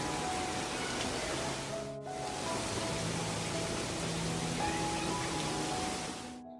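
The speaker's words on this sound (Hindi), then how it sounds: "उस दिन बारिश बहुत ज़ोर से आ रही थी" Steady, dense rainfall hissing continuously, heavy and close, with a brief dip partway through and no voices.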